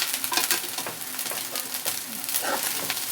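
Pudina rice being tossed in a pan over a high flame, with a steady sizzle and repeated scraping, stirring scuffs carrying on throughout, close and fairly loud.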